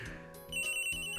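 An in-game telephone rings in the Ace Attorney video game, a steady electronic tone over background music, fairly faint and continuous.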